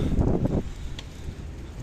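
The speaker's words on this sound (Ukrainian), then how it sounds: "Дощ іде, вітер дме, холодно." Gusty wind buffets the microphone in low rumbling bursts amid cold rain, strongest at first and then easing into a softer, steady blow.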